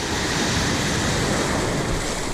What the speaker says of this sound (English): the waves are just ridiculous. Like they just keep crossing